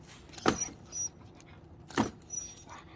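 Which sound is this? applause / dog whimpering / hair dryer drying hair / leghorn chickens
dog whimpering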